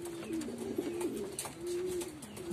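A pair of racing pigeons, a hen and a cock, coo softly at close range in repeated low throaty phrases, with no talking.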